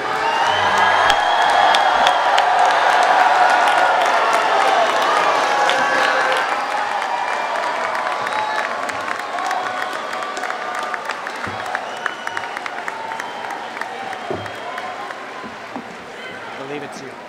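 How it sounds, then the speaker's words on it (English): An audience at a business school MBA spring convocation applauds and cheers in a sustained wash of clapping and whoops that slowly thins out but keeps going throughout. "Please continue cheering while I find my place in the program."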